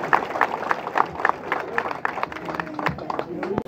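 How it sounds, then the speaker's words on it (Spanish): An audience at a rural social security election assembly in El Tambo claps in a dense, rhythmic patter that continues for several seconds while voices murmur beneath it. "les pido un fuertísimo aplauso a todos"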